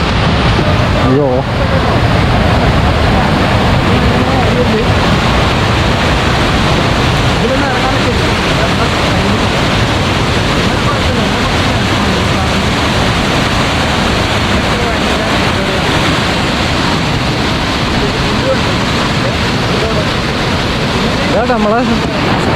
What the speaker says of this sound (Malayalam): സംഭവം നമ്മളെ വെള്ളച്ചാട്ടത്തിൻ്റെ സൗണ്ടൊക്കെ കേട്ടു തുടങ്ങിട്ടോ.